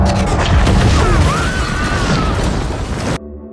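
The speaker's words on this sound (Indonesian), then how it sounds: "cahaya itu adalah drone yang menimbulkan ledakan yang dahsyat" A powerful drone-strike explosion in a film rolls out as a loud, sustained rumbling blast with crackling debris and a rising whine, cutting off abruptly near the end.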